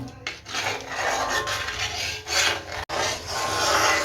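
Tirunelveli halwa mixture is stirred in a pan over medium flame, giving a continuous close scraping and rubbing with rhythmic swells and one brief break.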